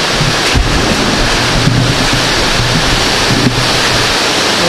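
Strong wind roars without a break during Typhoon Odette, a loud broadband rush with periodic gusts buffeting the microphone and deep rumbling underneath.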